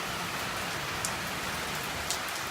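Steady rain falls after a long dry spell, a dense, even hiss of drops pattering on surfaces with a couple of sharper drips, heard alone without voices.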